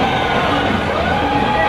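An ambulance siren sounding through a political party procession on a street, steady and fairly loud throughout amid crowd and traffic noise, with no pause.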